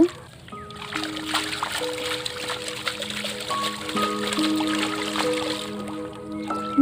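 Fish being let go into a village pond, with light splashing and trickling water under steady sustained tones and background noise that carry through the whole stretch.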